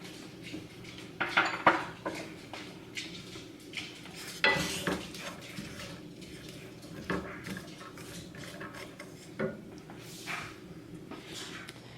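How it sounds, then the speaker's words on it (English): A spoon scrapes and clinks against a pot while a sweet potato mixture for dog biscuits is stirred as it gently heats, producing a run of irregular metallic knocks and scrapes at close range with no talking. "So that's going to gently heat up, and we'll just stir it and watch it."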